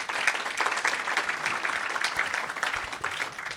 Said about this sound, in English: Just thank you again, please, with a round of applause.